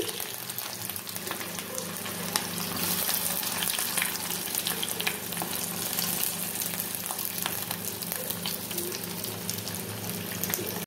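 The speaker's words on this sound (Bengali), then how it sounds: "তেল গরম হয়ে গেছে, তো আমি এবার এতে কেটে রাখা পেঁয়াজগুলো" Chopped onions fry in hot mustard oil, giving a dense, steady sizzle that holds at an even level from start to finish, with no voices.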